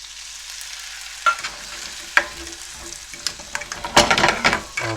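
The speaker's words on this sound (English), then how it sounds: "Now you add the white wine." White wine hits squid, garlic and butter in a hot pan with a loud hiss and crackle. The spitting bubbles of the simmer build and grow busier toward the end, with no voices.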